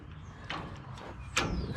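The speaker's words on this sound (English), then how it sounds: "This lock here, as you can see, folds down like that, and then you pull it out." A ute canopy door lock folds down and is pulled out, giving a few short metallic clicks and scrapes, the last one sharpest, close by with no talk.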